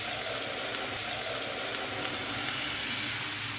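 Tomato juice poured onto golden fried garlic and tomato paste in a pan gives a steady, loud, even sizzle with no breaks and no talking.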